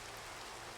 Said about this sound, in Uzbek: Yomg'ir ham yog'vordi.